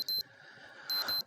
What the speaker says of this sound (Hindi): तुम्हारा अलार्म बज रहा।